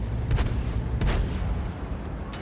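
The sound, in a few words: tank gun firing a tracking shot in World of Tanks video game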